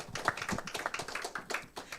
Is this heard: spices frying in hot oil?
no